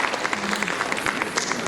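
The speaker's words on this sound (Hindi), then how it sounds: "एक बार इस परिवार के लिए तालियों के साथ अभिनंदन करें।" Audience applause at a Hindi literary award and felicitation ceremony, a short steady burst of clapping from a crowd, fairly even throughout with no talk over it.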